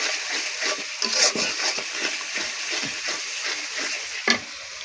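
Beef curry sizzles in a pan under a steady wash of frying hiss, with repeated scraping strokes as it is stirred, close and moderately loud, and one sharper clack near the end.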